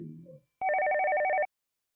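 A telephone rings in one continuous electronic trill with two steady tones, lasting just under a second, clear and close after a moment of low murmur.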